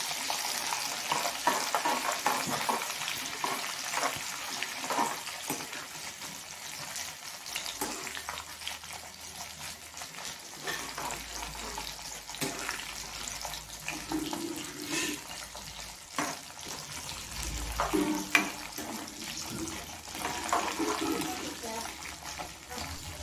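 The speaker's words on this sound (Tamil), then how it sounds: "அதுக்கப்புறம் உளுந்து சேர்த்துக்கலாம். ஏன்னா கடலைப்பருப்பு வறுங்க லேட்டாகும்," Urad dal and chana dal fry in oil in a pan for tamarind rice, crackling and hissing while a spoon stirs and scrapes in uneven bursts, with occasional low thumps.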